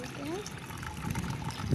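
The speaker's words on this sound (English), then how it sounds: "Add some water," Water is poured into a pot holding a cucumber plant at home, giving a brief, steady trickling splash close by, with a voice heard over it.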